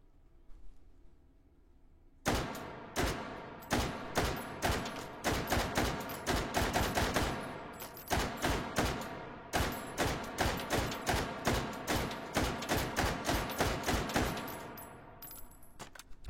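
A firearm fires a long series of sharp, close shots, some in quick bursts and others spaced apart, each crack loud and ringing against a quiet outdoor background.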